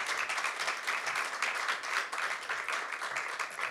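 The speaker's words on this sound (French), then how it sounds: "Je pense que ça mérite vraiment d'être applaudi." Audience at a round-table festival event applauding with a sustained, dense patter of many hands clapping at moderate distance, steady throughout without talk.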